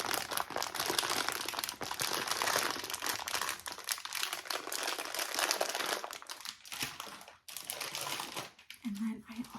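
Grocery bag from a Trader Joe's haul being handled, dense close crinkling and rustling throughout, with a soft-spoken voice underneath.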